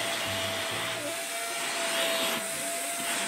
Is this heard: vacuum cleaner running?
yes